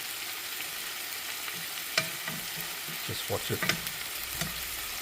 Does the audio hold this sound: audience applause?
no